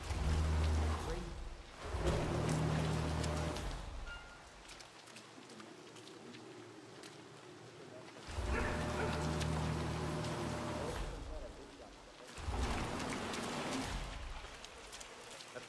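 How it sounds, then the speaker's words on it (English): Steady rainfall in Hitman 3's Dubai level, a broad soft hiss that swells and recedes in several waves, mid-distance and fairly faint, with people talking over it. "Rain, rain, nothing but rain."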